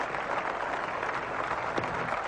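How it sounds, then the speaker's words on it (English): Steady crowd applause fills a cricket ground at an Australia versus England Test match in 1979, dense and continuous for the whole stretch, with no voice over it. "Applause from his teammate and from the crowd here."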